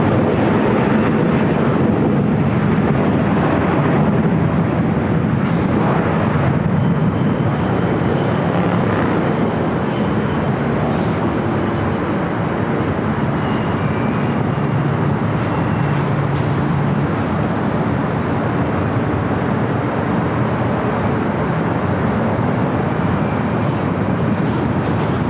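Qatar Airways jet rolling down runway 25 right at LAX, a loud, continuous roar of engines and rushing air that holds steady from start to finish, with no talk.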